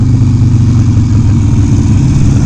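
A Harley-Davidson Sportster motorcycle engine rumbles loud and close while the bike is ridden, a deep, steady throb with a slight pulsing texture and no voices.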